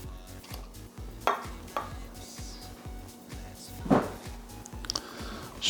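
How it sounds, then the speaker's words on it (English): Minced garlic, about a head's worth, is stirred into butter in a pan, a soft steady scraping with a few light clinks, close up under a low constant background, no talking. "Stir that around."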